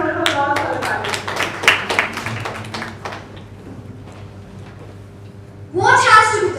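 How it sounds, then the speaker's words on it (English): At a school English declamation contest, a small audience gives several sharp, sparse claps near the start, then quiets to a low background hum before a voice speaks at the end. "Please give a huge round of applause for the participant."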